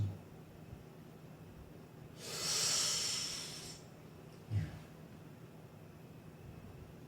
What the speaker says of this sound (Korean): 가끔 가다가 심호흡을 해요